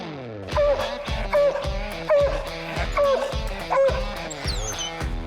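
A coon hound barking at a treed animal, with a steady run of about eight loud, close, drawn-out baying barks with whining tails, repeating roughly every seconds without other sounds.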